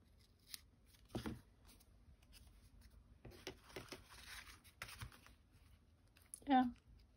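Scissors snip washi tape at a craft desk in a few short, quiet cuts scattered among faint rustling and handling sounds, with one sharper snip near the end.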